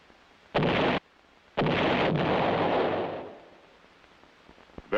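A heavy artillery gun fires in two loud, booming blasts, each with a sustained roar, the second rolling away and fading over about a second, with no talk.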